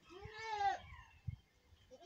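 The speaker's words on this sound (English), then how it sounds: "so we figured we'd do a baby goat feeding video" A baby goat bleats once at feeding time, a close, wavering cry lasting under a second, followed by quieter shuffling and soft noises nearby.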